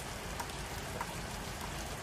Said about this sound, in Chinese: 我们这下了1个月的雨了，天天下雨，又下上了